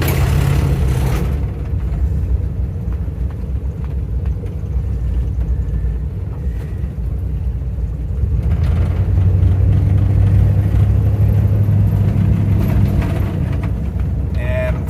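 An old Ford Bronco runs poorly while driving, its engine a steady low rumble with a brief rise in drone partway through as it struggles to shift, loud and continuous throughout.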